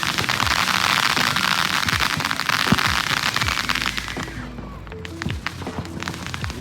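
Fireworks and firecrackers going off in a street, a dense stream of sharp pops and crackles, loud and continuous at first, then thinning into scattered bangs.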